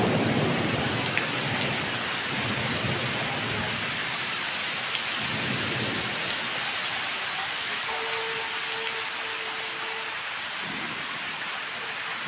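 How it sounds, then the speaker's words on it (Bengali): Heavy rain pours down during a thunderstorm with dark clouds in rural West Bengal, a dense steady hiss with low thunder rumbling, growing slightly quieter later on. "বজ্র বিদ্যুৎ সহ বৃষ্টিপাত হচ্ছে কোথাও কোথাও দেখা যাচ্ছে প্রচণ্ড ঝোড়ো হাওয়া বইছে"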